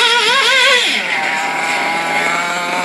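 A Baja 5b RC car with a petrol engine pulls away, its loud close two-stroke note rising and wavering in pitch before settling into a steady high-revving drone.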